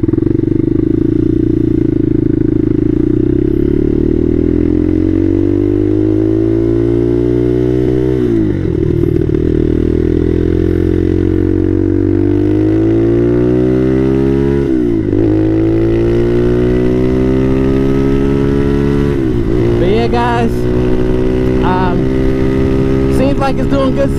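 Bashan Motomax 250 motorcycle fitted with a Nibbi PE30mm carburetor, ridden with a loud, close engine drone that climbs through the revs, dropping at each gear shift before rising again, continuous throughout.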